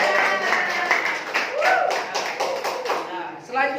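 Students in a classroom give a short round of clapping, with quick taps over the hum and chatter of the room and voices mixed in, before the sound tapers off.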